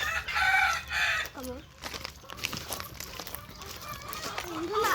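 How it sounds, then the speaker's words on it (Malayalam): Free-range country chickens cluck and a rooster-like call rises near the start, with scattered fowl sounds over a quiet background and faint voices. "ഇതെല്ലാം നാടൻ കോഴിയാണ്."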